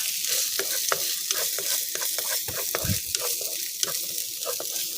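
Chopped shallots stir-fried in a pan with garlic, pepper and coriander root for a Thai tapioca-ball pork filling: a steady close sizzle with repeated scraping spatula strokes, no talk.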